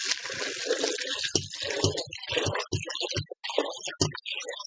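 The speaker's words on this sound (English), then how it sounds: "then we're going to rinse off these beans." Running water rinses canned garbanzo beans, a steady splashing trickle with irregular clattering bursts as the beans are stirred, close and fairly loud with no talking.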